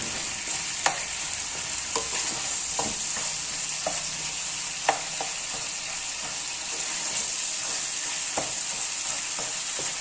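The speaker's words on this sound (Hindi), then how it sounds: "अब हम इसे चम्मच के साथ ऐसे मिक्स कर लेंगे" Mutton keema sizzling over a low flame while a spoon stirs it, a constant frying hiss broken by scattered scrapes and clinks of the spoon against the pan.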